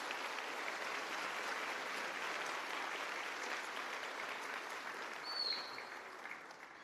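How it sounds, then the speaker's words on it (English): Sustained applause from a crowd at a nursing pinning ceremony, a dense even clatter of clapping that holds steady and tapers off slightly toward the end. "Let's give a round of applause, students, to these folks."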